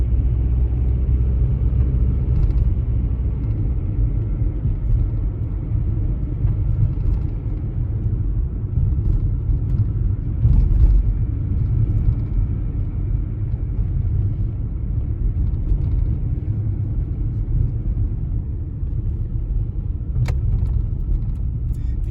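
A 1980s Nissan Skyline's engine drones in a steady low rumble while driving, heard from inside the car, loud and continuous with no speech.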